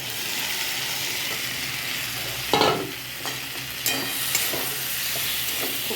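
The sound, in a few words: stirring fried prawns into okra curry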